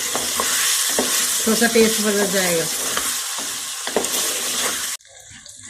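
Chicken frying and being stirred in a pan for Afghani kabuli pulao, a loud steady sizzle with scraping stirs throughout, someone speaking briefly over it before it cuts off near the end.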